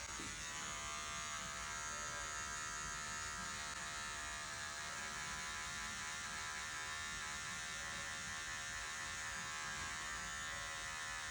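An electric hair clipper with its blade lever closed runs steadily through hair during a self-cut, a close, continuous high-pitched buzz holding for about eleven seconds with no talking.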